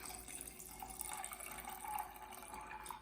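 Baked apple sangria pours over ice into a wine glass, a soft continuous liquid trickle, quiet and close, with no talking.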